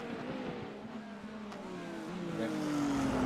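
A red, yellow and black Porsche race car engine drones steadily, its pitch climbing as it accelerates and swells louder toward the end.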